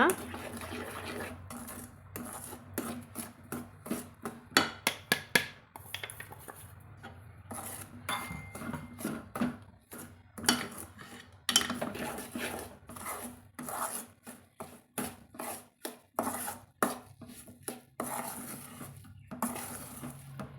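Ground semolina being stirred in a metal pan for rava laddu, with irregular scraping, rasping and clinking of the spoon against the pan, close and moderately loud, with a voice talking over parts of it.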